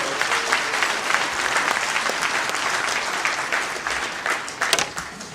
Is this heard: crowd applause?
yes